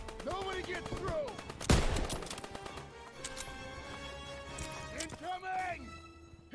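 Gunfire from the Call of Duty: WWII Operation Cobra mission cracks in one sharp, loud shot amid scattered battle noise. Shouting voices run throughout.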